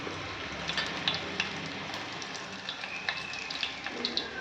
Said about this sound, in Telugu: ఇవి కొంచెం దోరగా వేగాలి తాలింపు మరీ మాడిపోకూడదు